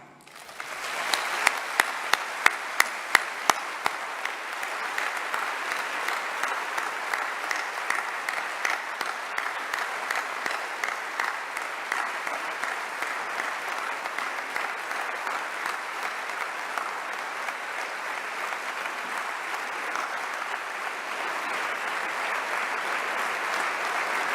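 Warm, sustained audience applause honouring Charles Aznavour at the 17th Francophonie Summit, a dense wash of many hands clapping for over twenty seconds, with a few sharper claps standing out at the start before settling into steady ovation.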